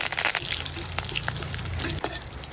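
Curry leaves and asafoetida sizzle and crackle in hot oil for a Bengali tadka, a steady close frying hiss with sharper spits and pops throughout.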